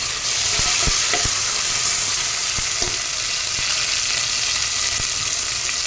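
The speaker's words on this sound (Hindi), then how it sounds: "अब इसमें मैं डालूंगी ये लहसुन अदरक का पेस्ट और साथ में मिर्ची का पेस्ट भी है।" Garlic-ginger paste and chili paste sizzle loudly in hot oil with a steady hiss, broken by a few sharp stirring clicks and scrapes of the spoon, with no voices.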